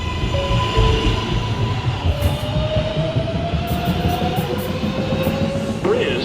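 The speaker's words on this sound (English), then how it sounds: "This is a Manhattan-bound 1 train." An R142A New York City subway train on the 1 line running underground, with a steady loud rumble and wheel noise, whining motor tones and brief high squeals throughout.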